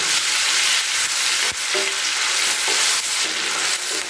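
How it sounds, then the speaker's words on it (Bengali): Chopped onion and tomato frying in hot oil with bay leaf, a steady loud sizzle filling the whole stretch, broken by a few scrapes and stirs of a spatula against the pan. "এবার দিয়ে দিলাম কিছুটা কুচিয়ে রাখা পেঁয়াজ আর টমেটো, দিয়ে তাকে খুব ভালো করে আমি একটু ভেজে নিচ্ছি।"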